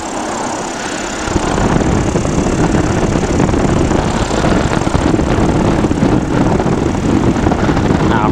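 Sub 70 flexwing microlight engine droning in flight on an idle approach, a loud, steady propeller hum close to the microphone that steps up slightly after a quieter opening second.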